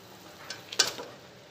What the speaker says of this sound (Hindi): अब इसमें इसको मिक्स कर लेंगे।